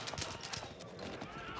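Horse archers' hooves in the real-time strategy game Age of Empires 4 make rapid, clattering clip-clop beats amid busy battle ambience, brief and fairly close.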